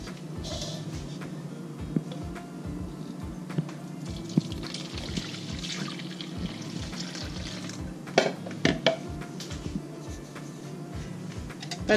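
Milk is poured into a bowl, giving a faint, steady liquid trickle with soft low pulses and a few light knocks, quiet and close.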